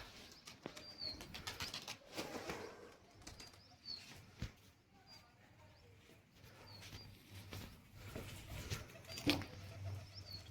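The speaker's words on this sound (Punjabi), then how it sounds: "ਛੇ ਕਬੂਤਰ ਉੱਡ ਗਏ" Six pigeons take off, their wings flapping in soft, quick bursts, faint and somewhat distant in a quiet outdoor setting, with a few scattered bird chirps.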